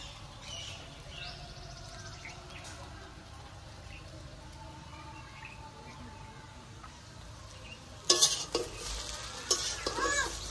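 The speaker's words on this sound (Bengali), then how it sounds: "এবার আমি গরম মশলা দিয়ে ভালো করে নাড়িয়ে চাড়িয়ে" Faint frying hiss as chicken noodles with garam masala are stirred lightly, then louder clattering scrapes and knocks of a utensil against the pan near the end.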